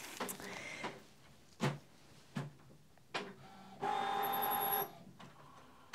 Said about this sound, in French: je vais éteindre l'imprimante